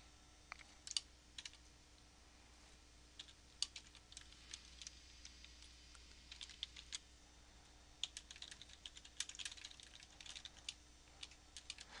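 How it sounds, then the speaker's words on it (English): Fingers tap quickly on a computer keyboard while HTML is entered, irregular clusters of soft, close key clicks running throughout over a quiet room hum, with no speech. "So here I'm just going to type in,"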